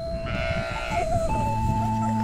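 Sheep bleating in a rural village, several drawn-out, wavering calls close by, one after another, with no talk over them.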